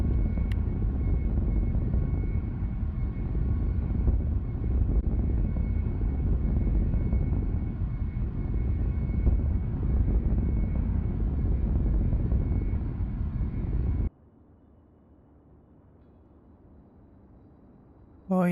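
Spacecraft engines in the video game Kerbal Space Program roar as a steady, dense rumble for about fourteen seconds, then cut off abruptly, leaving a faint low hum.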